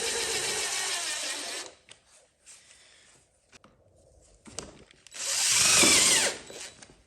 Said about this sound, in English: Now what we're going to do is fasten these metal brackets to the bumper on both sides